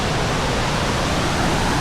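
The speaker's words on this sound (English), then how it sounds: "here is the top of the falls" Steady broadband rush of a waterfall on a scenic creek, heard from the top of the falls, a continuous even roar with no pauses and no voices.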